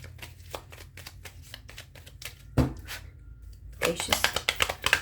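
A Petit Lenormand (baralho cigano) deck being shuffled by hand, with crisp rhythmic riffles and card snaps, a sharp tap midway, then a faster, louder burst of shuffling near the end.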